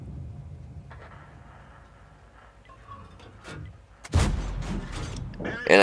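Tank destroyer cannon firing in World of Tanks, the Steyr WT, one heavy booming shot late in the clip over mechanical game ambience and faint ticking.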